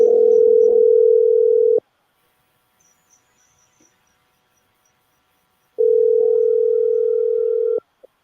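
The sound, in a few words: telephone call not ringing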